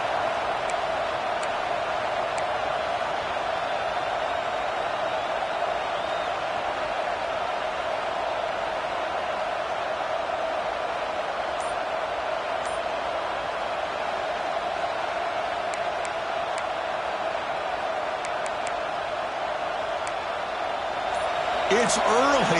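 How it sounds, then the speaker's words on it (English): Steady, loud stadium crowd roar from a college football video game playoff matchup between Baylor and Michigan, a dense continuous wall of noise with no pauses that holds through the whole stretch and swells slightly at the end. "this crowd is fired up. Listen to this noise here."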